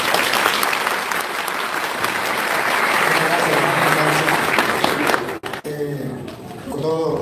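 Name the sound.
church congregation applauding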